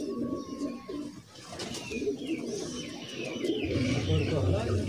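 Sialkoti pigeons coo in low, rolling bursts, close by, while someone talks over them throughout.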